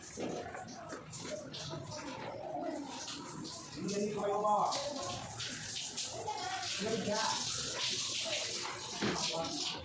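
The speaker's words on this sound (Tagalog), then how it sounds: "nag-shower na ako" A hot and cold shower runs with a steady splashing hiss while people talk over it nearby.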